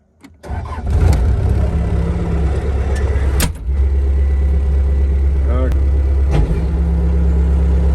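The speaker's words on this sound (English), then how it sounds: "We'll fire the skid steer back up, make sure it's not leaking at all, and then we'll get back to tilling." A skid steer engine cranks and fires up, then settles into a loud, steady, close idle with a deep rumble, while a person speaks over it.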